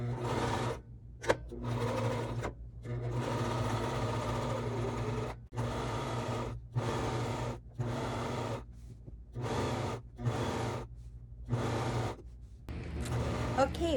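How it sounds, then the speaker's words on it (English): A sewing machine runs in repeated short bursts while stitching curtain panels, close-up rhythmic whirring separated by brief pauses, with no talking. "So let's go ahead and sew."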